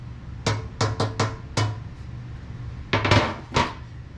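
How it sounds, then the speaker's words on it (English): Metal pans clanking together in a kitchen as one pan is set over another covering cooking cod, a quick cluster of sharp clanks, a brief pause, then a few more close bangs. "I'm gonna cover that pan up with another pan"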